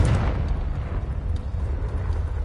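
The Confringo fire spell in Hogwarts Legacy bursts with a loud, deep explosive boom that rumbles and fades over a couple of seconds.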